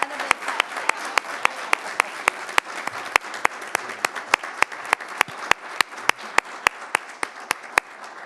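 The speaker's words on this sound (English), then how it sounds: "Let's give Katie and her amazing family a well-deserved round of applause." An audience at a school district board meeting gives a steady wash of applause, with one nearby person clapping sharply in an even, regular beat over it for the whole stretch.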